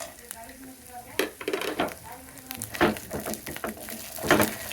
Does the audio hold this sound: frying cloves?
yes